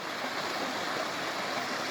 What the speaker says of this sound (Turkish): Kelabaş Deresi'nden geçiyoruz. Duru, gayet temiz, içilebilir bir su.